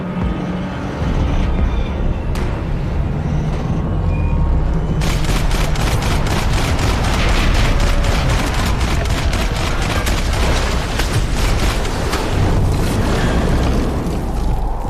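Gunfire in the video game Max Payne 3 erupts in loud, rapid bursts of shots and booms that go on almost without a break, with a few shouted voices under the din.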